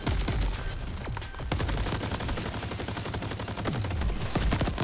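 Dense, continuous bursts of gunfire and explosive mortar strikes in a co-op shooter game with armed crabs, loud and relentless throughout with heavy low booms under rapid crackling fire.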